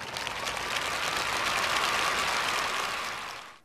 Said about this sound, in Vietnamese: chúng ta cùng dành một tràng pháo tay đón chào gia đình chị Lê Thị Liên